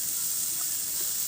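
Leafy lote greens sizzle and hiss steadily in hot oil in a wok with browned onion, garlic, green chilli and a little turmeric, a close, continuous fry with no voices.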